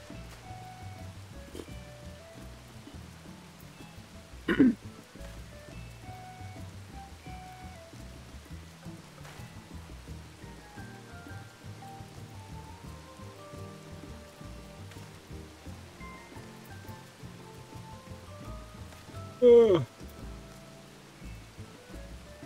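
Rain falling in the game Final Fantasy XIV, a soft steady patter throughout with two brief louder tonal bursts, quiet and without speech.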